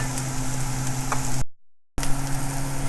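Onions and ginger sizzle in a pan for chana masala, a loud close crackling fry with a steady low hum, cut by a half-second gap of silence midway.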